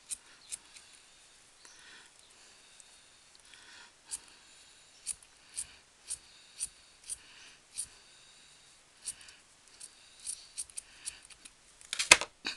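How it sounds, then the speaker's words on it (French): Scissors snipping fur fabric for an Easter bunny gnome craft: a series of quiet, close, crisp cuts in an irregular rhythm, with soft handling noises between them and a louder rustling flurry near the end. "on coupe un petit arrondi pour glisser ça sous le nez"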